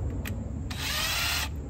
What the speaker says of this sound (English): Right, gotta drill the hole right here.